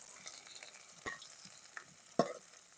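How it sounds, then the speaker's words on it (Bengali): Chopped onion and green chili fry in soybean oil, a faint low sizzle with a couple of sharp spatula knocks against the pan, no talking. "এবার তেলে দিয়ে দিলাম পেঁয়াজ কুচি আর কাঁচা ঝাল কাটা। এবার একটু নেড়ি সেড়ি ভেজে নেবো।"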